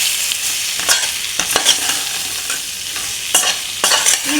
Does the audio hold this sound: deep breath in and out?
no